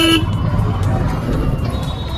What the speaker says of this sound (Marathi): अमृतसरची ट्रॅफिक चालू आली.